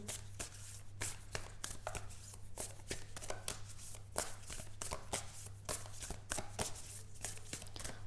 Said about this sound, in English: Let me just pull some more cards for you